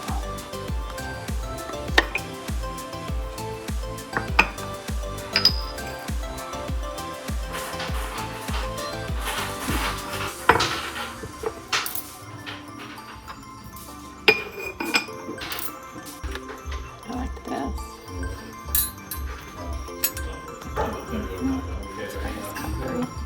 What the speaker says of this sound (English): Cutlery.